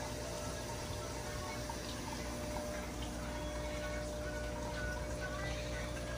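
Water runs steadily into two large aquarium tanks during a water change, making a constant, loud, even rush of pouring and filling with no pauses or talk.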